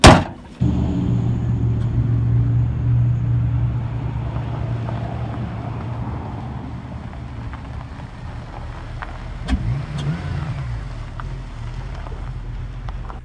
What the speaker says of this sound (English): let's go for a spin and let's test out the new motor